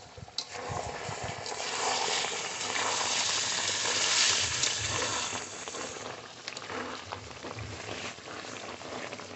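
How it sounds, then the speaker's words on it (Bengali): Mutton frying in a pan and being stirred, a dense close sizzle that swells in the middle and eases off, with scraping and rustling as the meat is turned. "ঢাকনা তুলে আবারও মাংস নেড়ে দেব।"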